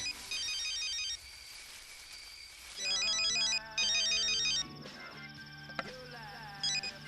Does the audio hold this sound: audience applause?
no